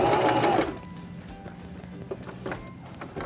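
A Singer Start 1306 sewing machine stitches the final step of a buttonhole, a loud quick run of needle strokes for under a second, then quieter mechanical clicks and handling.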